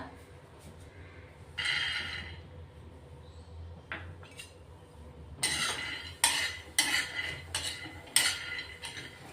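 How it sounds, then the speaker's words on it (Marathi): Half a bowl of peanuts dry-roasting in a pan as a spoon stirs them, giving scattered scrapes early on, then a run of louder rattling, clattering bursts in the second half, close by with no talk. "अर्धी वाटी शेंगदाणे भाजून घेतोय आपण आता।"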